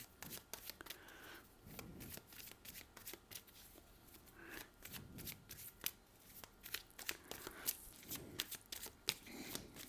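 Tarot cards are shuffled and drawn by hand in quick, close bursts of riffling and flicking, broken by brief pauses, quiet and with no voices.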